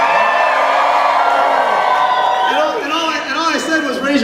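A lively keynote audience cheers, whoops and yells in a dense, sustained crowd roar with rising shouts, heard up close and loud throughout.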